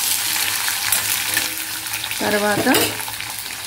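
Chopped onion pieces fry in hot oil with tempering seeds, a dense crackling sizzle heard close up, while a voice speaks briefly partway through.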